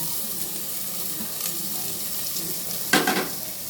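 Vegetables sautéing in a pan for wheat rava kichdi, a steady soft sizzle throughout with a brief louder stir or clatter near the end.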